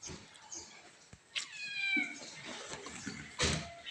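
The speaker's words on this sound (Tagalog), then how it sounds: "At itong aking alagang pusa." A pet cat meows close by in a quiet room, giving a couple of short, faint mews with small clicks and rustles around them.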